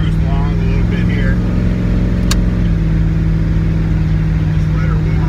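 A Chevy S10 pickup with an LS V8 swap cruises along at a steady, loud engine drone with a constant low hum from inside the cab.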